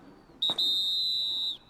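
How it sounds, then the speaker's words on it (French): A single sharp, sustained whistle blast about a second long is blown to start a carnival at 7 pm. It is loud and close, with only quiet background around it. "Il est maintenant 19 h et le coup de sifflet est donné"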